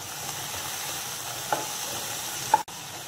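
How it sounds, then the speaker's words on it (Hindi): Tomato and grated ginger frying in a pan while being stirred, a steady, close sizzle with occasional spatula scrapes and a short clack near the end. No voices. "मिक्स कर लेंगे, हल्का सा इसको भून लेंगे।"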